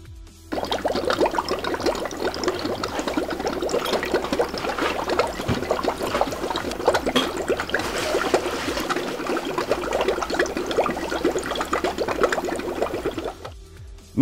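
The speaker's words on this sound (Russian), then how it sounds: "Налью охлаждайки." Antifreeze coolant poured from above onto dry ice, giving a steady, continuous liquid rush and bubbling hiss that runs loud and unbroken for about thirteen seconds before stopping, with no talking.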